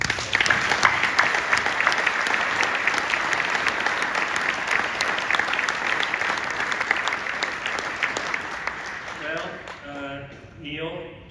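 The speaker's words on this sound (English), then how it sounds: "I think he deserves a huge round of applause" Loud, sustained applause from a large crowd, steady for several seconds before tapering off as a voice begins speaking.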